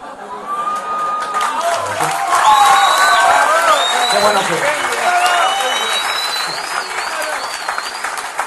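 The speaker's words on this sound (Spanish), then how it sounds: "Qué bueno que me aplaudieron" A lively audience at a conference talk bursts into loud, sustained applause mixed with cheers and whoops, with shouting voices riding over the clapping throughout.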